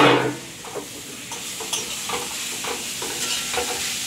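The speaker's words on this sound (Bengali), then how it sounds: "দিয়ে এখন তেলে কিছুক্ষণ নাড়তে হবে ভালো করে।" Grated carrots for carrot halwa are stirred in hot oil, a continuous sizzle broken by rhythmic scraping strokes of the spoon every half second or so, close by and without speech.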